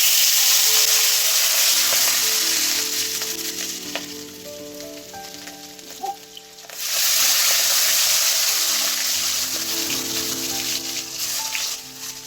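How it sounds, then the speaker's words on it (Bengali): Hilsa fish pieces rubbed with salt and turmeric fry in hot oil, a loud, close, continuous crackling sizzle that briefly dies down midway before surging back at full strength. "এখন ইলিশ মাছগুলো ভেজে নেবে।"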